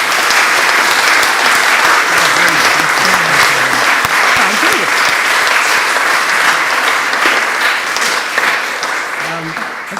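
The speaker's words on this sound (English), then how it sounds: "Caroline Barron, another round of applause for..." Sustained loud applause from a large audience at a history lecture, steady clapping throughout with some crowd noise mixed in, tapering slightly at the end.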